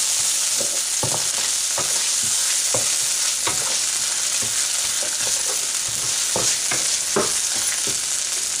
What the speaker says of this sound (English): Make the baghar, as it were, for the dal